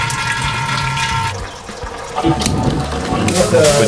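Homebrewed beer wort drains from a 40-litre brewing setup in a steady rushing, gurgling flow of liquid, close and fairly loud, with voices speaking over it.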